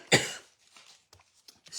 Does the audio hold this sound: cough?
yes